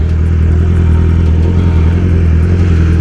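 A 2020 BMW 1000 motorcycle held at full throttle, its engine a loud, close, steady drone of deep, dense harmonics with no break and no voices.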